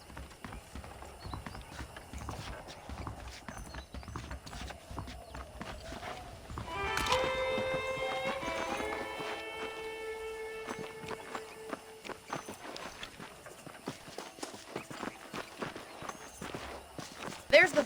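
Horses' hooves clip-clop on the ground in the Western video game Red Dead Redemption, a steady walking rhythm under game music and ambience, with a brief musical swell midway.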